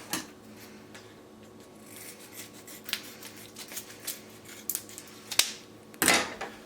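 Meat is cut up for packing in a kitchen, with foil nearby. Soft scraping and slicing strokes repeat quietly, and a few sharper clacks come near the end.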